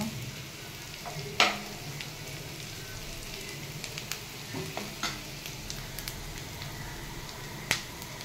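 Beef pieces fry in a pan until lightly browned, a close, even sizzle of hot oil punctuated by sharp spatula scrapes and pops, with no talking over it.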